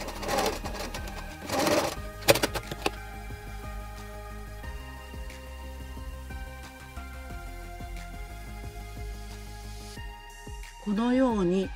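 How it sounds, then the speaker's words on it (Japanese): A sewing machine stitches an apron seam in quick bursts, with short pauses and handling clicks between runs, close and clear. "端から1センチのところにミシンをかけます。"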